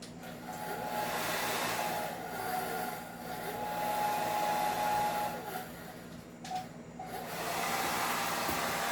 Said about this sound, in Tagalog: Yung blower ko, ayaw gumana ng matino.